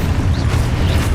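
A loud, dense explosion from the Expulso blasting spell in the Hogwarts Legacy video game, a sustained booming roar with crackling texture throughout the brief moment.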